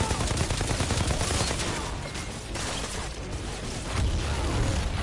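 A chaotic firefight in the shooter game Outriders, where a thermal bomb turns an enemy into an explosion amid continuous gunfire and blasts, dense and loud throughout with a heavier burst near the end.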